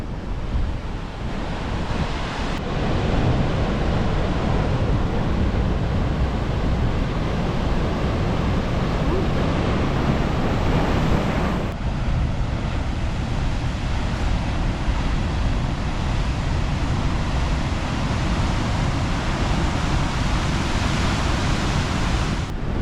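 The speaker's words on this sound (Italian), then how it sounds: "Queste onde fanno 4500 miglia prima di venirsi a frangere qua" Atlantic Ocean waves breaking on the shore at Peniche, Portugal, a loud, continuous roar of surf mixed with strong wind buffeting the microphone, steady throughout with no voices.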